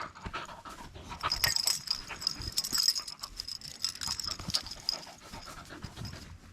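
Dog panting fast and steadily with a rattling, wheezy breath, close by at a wild camping spot by a stony beach, with no talk over it.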